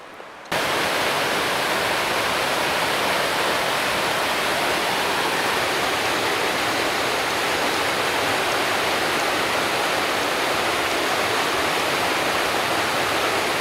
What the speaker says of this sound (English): Waterfall all the way up there.